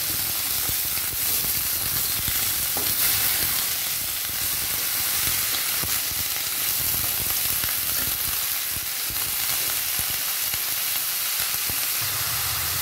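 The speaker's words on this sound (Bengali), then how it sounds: "কেটে রাখা কুচি কুচি করে লাউয়ের খোসা, আলু কুচি কুচি করে কাটা, আর চেরা কাঁচা লঙ্কা। ভালো করে নেড়ে নেব।" Chopped bottle gourd peel, potato and slit green chillies stir-fried in a pan, giving a steady, dense sizzle that runs unbroken throughout with faint scraping from stirring.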